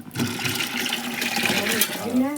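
Water from rinsing a mixer jar pours into a pot of tamarind-based fish curry with a rising gurgling fill, close by, as someone talks over it.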